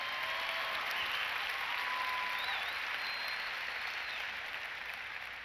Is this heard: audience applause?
yes